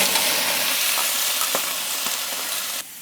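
Sauerkraut fries in butter in a cast iron pan at a tailgate, a loud continuous sizzle with faint stirring scrapes before it cuts down sharply near the end.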